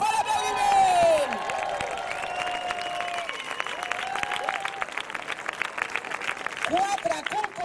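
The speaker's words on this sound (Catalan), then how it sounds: "Un fort aplaudiment!" A theatre audience at a comedy stage show claps and cheers, with whoops and shouts rising over steady applause and a crowd's voices mixed throughout.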